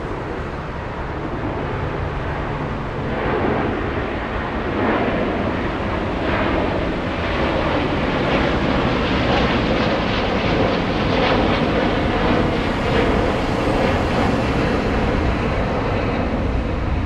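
Air Canada Airbus A300 jet at Frankfurt airport, a loud, continuous engine roar with wind buffeting, rumbling steadily from start to finish.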